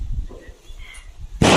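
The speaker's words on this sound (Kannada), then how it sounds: "ಪಟಾಕಿ" A firecracker bursts during a village Pongal festival celebration, a sudden loud, sharp crack near the end that follows quieter outdoor background murmur.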